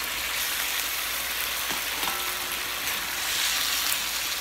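Sliced bottle gourd goes into a hot pan after fish has been fried, producing a loud, dense, unbroken sizzle close by, with faint stirring knocks.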